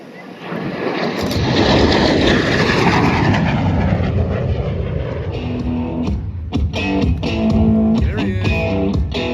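MiG-17F jet fighter passing at an airshow at Dover Air Force Base, a loud sustained jet roar with a sweeping pitch as it goes by, buffeted by wind, with faint crowd sounds late on.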